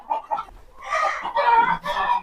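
Chickens on a small farm near a goat shed cluck and squawk loudly in several close bursts, a stretch of overlapping calls building from softer clucks at the start.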